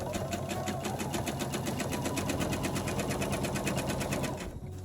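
Sewing machine stitching bias binding onto a quilt, a close, rapid run of evenly spaced needle strokes that continues steadily before stopping at the end.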